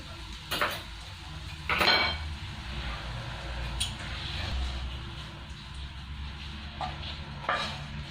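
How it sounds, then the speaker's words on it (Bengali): Spoon stirring chopped carrot and capsicum into yogurt raita in a bowl: soft, wet squishing with a few sharp clinks against the bowl, close and quiet, steady irregular rhythm, no clear talk. "এবার এর মধ্যে আমি সবজিগুলো মিলিয়ে নিচ্ছি।"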